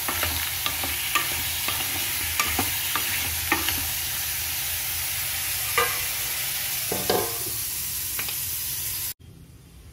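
Sliced ridge gourd fries in a pan on a home stove, giving a steady close sizzle. Light clicks and scrapes of stirring mark the sizzle throughout until it stops abruptly.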